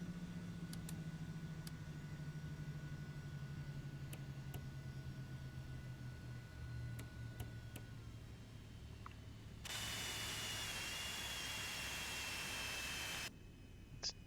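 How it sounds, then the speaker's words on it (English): The engines of an Eclipse 550 business jet shut down in the X-Plane 11 flight simulator. A steady engine drone slowly winds down in pitch amid faint cockpit clicks, and then a broad hiss rises before cutting off. "Engine shutdown."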